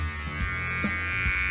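An electric hair clipper fitted with a 2 mm guard buzzes steadily while shaving a head, a continuous close hum that dips and changes slightly as the blades move through the hair.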